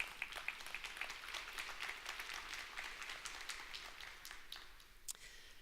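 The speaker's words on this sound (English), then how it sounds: "Let's give her a round of applause." An audience at a tech conference talk claps in a dense, steady patter that gradually thins and fades toward the end, fairly faint and heard from a distance.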